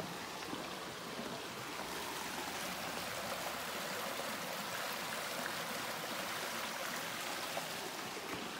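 A creek runs beside a flat hiking path on the Appalachian Trail near the James River in Virginia, its soft, continuous babbling and rushing carrying alone at low volume.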